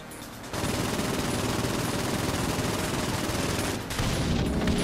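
Sustained automatic gunfire in the Saints Row 4 video game, a dense continuous fusillade that fills nearly five seconds with a brief dip near the end, loud and close with no talk over it.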